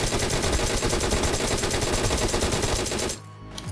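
Rapid, loud automatic gunfire from the video game PUBG Mobile rattles in dense, continuous bursts up close, then cuts off abruptly just before the end.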